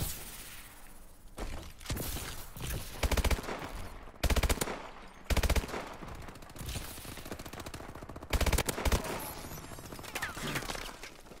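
Gunfire in a Call of Duty: Advanced Warfare gun game match, with bursts of rapid automatic fire and heavy single shots coming in irregular loud clusters over a busy combat background.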